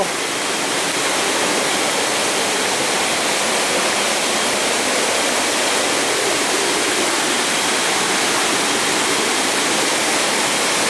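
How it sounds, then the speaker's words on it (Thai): Tad Gneuang waterfall roars in a steady, dense, unbroken wash of falling water, loud and close, with no voices or other sounds over it. "นี่เรากำลังลงมาจุดชมวิวน้ำตกตาด"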